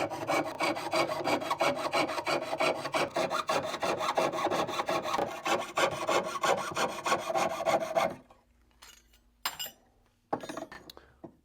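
Rapid rhythmic strokes of a hand saw rasping back and forth through metal for several seconds, then stopping, followed by a few faint scrapes and clinks.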